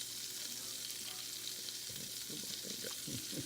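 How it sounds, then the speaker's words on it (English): Butter melts and sizzles in a pan for a cream sauce, a steady soft frying hiss with faint stirring scrapes toward the end. "Gonna melt the butter first."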